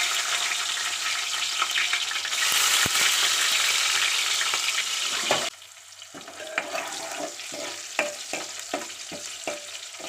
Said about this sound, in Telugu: జీలకర్ర కాలినాక పచ్చిమిర్చి వేసుకోవాలి.